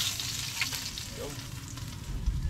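Food sizzles and fries steadily in a pan as a fresh batch goes in for a roadside ulam cookout, a continuous close crackle with light stirring throughout.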